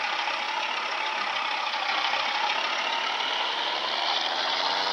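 Truck engine from a truck simulator game, a steady loud broadband roar holding constant throughout with no talk.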